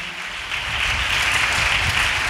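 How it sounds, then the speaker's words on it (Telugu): A congregation claps loudly together during a Sunday church worship service. The steady, continuous clapping builds slightly after the first half-second and carries on without a break. "చప్పట్లు కొట్టండి గట్టిగా అందరూ."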